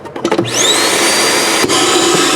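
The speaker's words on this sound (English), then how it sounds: "there's your vacuum" A built-in central vacuum in a 2022 Cedar Creek 345IK fifth-wheel RV, with a floor-level dustpan port, sucks up dirt. A few soft knocks come first, then the motor spins up into a loud, steady, high whine that holds to the end.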